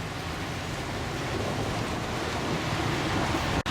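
A river swollen by heavy rain rushes under a bridge between Pau and Bizanos, a loud, steady broadband roar of flowing water with no talking.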